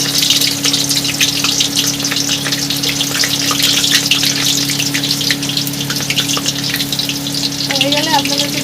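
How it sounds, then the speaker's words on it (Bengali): Potatoes drop into hot oil for a Bengali-style potato fry and bubble vigorously, a loud, dense, continuous sizzle with a low steady hum underneath and a brief faint voice toward the end. "এখানে তেলটা গরম হয়ে গেছে, এবার আলুটা ছেড়ে দেবো আমি তেলের মধ্যে"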